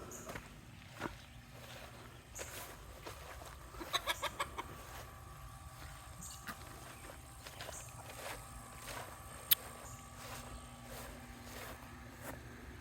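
Chickens in a coop, low steady clucking and scratching with scattered small knocks and a brief run of sharper taps, faint and close amid steady background hum.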